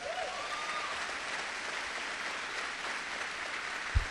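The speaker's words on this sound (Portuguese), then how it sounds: "Eu quero que vocês dêem uma salva de palmas para minha esposa" Church audience applauding the speaker's wife Cibele, a soft, even wash of clapping heard from a distance with no talking and a brief thump near the end.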